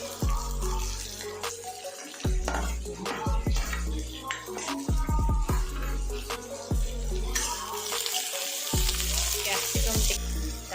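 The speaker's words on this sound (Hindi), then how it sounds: "कैप्सिकम को पकेदबा" Capsicum cooks in a pan for chilli soyabean, with bursts of sizzling and frying broken by loud scraping and clattering stirring strokes, close up and uneven, with brief gaps of quiet.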